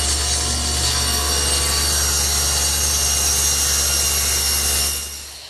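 Table saw cutting a board square against a T-square jig, a loud steady whine with broad cutting noise that holds for several seconds, then fades.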